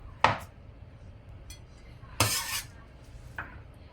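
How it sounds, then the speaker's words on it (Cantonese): A knife dices canned black-pork luncheon meat on a board in a home kitchen, three or four sharp, separate chops and clacks with quiet pauses between them. "再將午餐肉切粒。"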